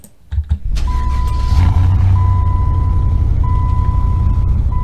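A 2008 Bullhorn Prancer T/R trim car in the Roblox game Greenville: a steady low engine drone holds after a few short starting thumps, with a thin electronic tone cutting in and out above it.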